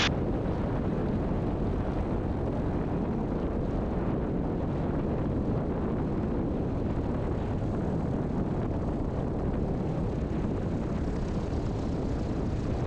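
A Zenith light aircraft's engine held at low power during the takeoff roll, a continuous, even drone mixed with heavy wind rush, close and steady with no pauses.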